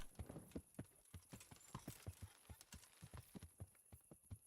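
Rhythmic hoofbeats of a horse in the video game Kingdom Come: Deliverance, a steady clip-clop trotting pattern repeating evenly throughout, moderately close with a faint high background hum.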